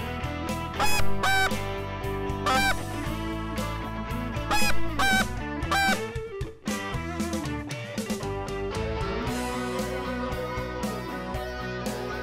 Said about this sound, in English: We've been sitting here for about 10 minutes watching these birds get up off the roost.